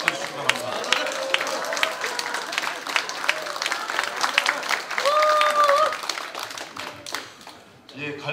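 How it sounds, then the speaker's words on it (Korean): Audience clapping at a 2011 joint campaign speech rally in Jeonju, a dense patter of hands from a crowd that swells midway and fades toward the end, with a voice briefly heard. "여러분 힘찬 격려 박수로 맞아주시기 바랍니다"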